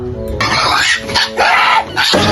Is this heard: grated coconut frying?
no